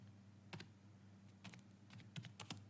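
Code being typed on a computer keyboard: quiet, irregular clusters of key clicks come in short bursts with pauses between them, faint and close, with no talking.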